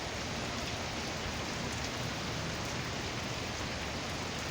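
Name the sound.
rain falling outdoors during a storm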